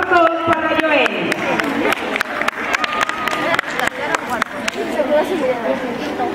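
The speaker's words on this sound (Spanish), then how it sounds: "Fuerte los aplausos para Joel." An audience at a school poetry recitation contest breaks into quick, scattered hand clapping mixed with steady crowd chatter and murmuring voices.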